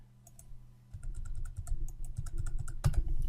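A password is typed on a computer keyboard in a close, quick run of crisp key clicks after a short pause, ending in a firmer tap like the enter key.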